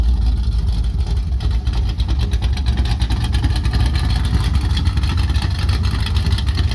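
A square-body Chevrolet race truck that looks stock sits running at a truck show, its engine a steady deep rumble with a fast, even pulse, loud and close, with no talking.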